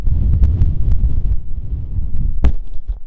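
Strong wind on Conway Mountain buffeting the microphone in loud, low rumbling gusts, with a few sharp bumps and thumps.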